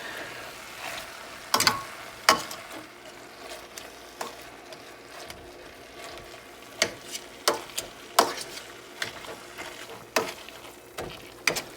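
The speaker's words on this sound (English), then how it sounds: "Make sure you scrape the sides of your pan so that way you don't get any long pieces that haven't been mashed in yet." Vegan gluten-free crab cake mixture being scraped and mashed in a pan, a run of sharp scraping clicks and knocks at irregular intervals over a faint steady sizzle, close by with no talking.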